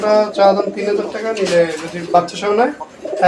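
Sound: pigeons cooing

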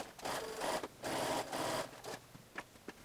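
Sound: sewing machine sewing shorts

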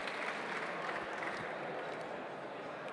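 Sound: audience applause

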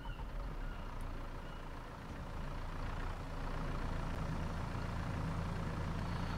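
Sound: small tractor engine in Farming Simulator 22 video game

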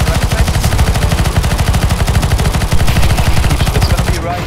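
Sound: gunfire in the video game CS:GO

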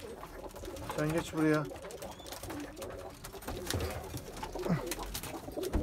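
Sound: young pigeons cooing

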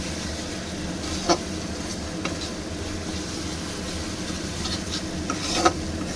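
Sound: spice paste being stirred and fried in oil

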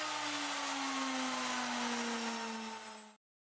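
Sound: CNC spindle motor running

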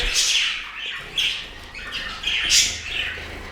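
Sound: budgerigars and finches chirping and flying in bird room

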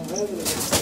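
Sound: Barda pigeon cooing

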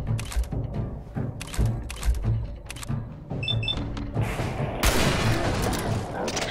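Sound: gunfire in the video game Fallout 4

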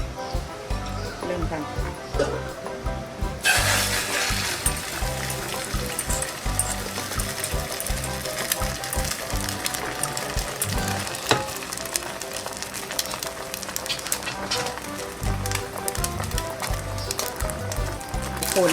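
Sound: eggs frying in a pan for an omelette

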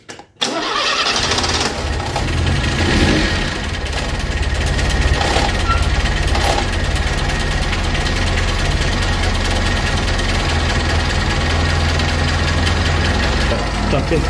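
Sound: car engine running

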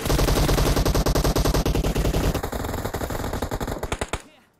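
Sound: gunfire while pre-firing in the video game PUBG Mobile

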